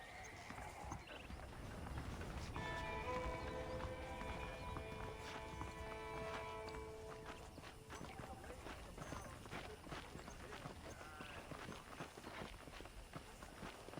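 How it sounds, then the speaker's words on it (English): Hooves clop in a quick trotting rhythm under someone talking, with a horse whinnying briefly and steady background ambience, in the video game Red Dead Redemption on PC. "The horses are saddled up over here."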